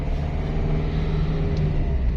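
A 2011 Dacia Sandero Stepway with a 1.5 dCi 70 hp diesel engine labours on a hill, a steady close low rumble with a constant droning hum and no talk.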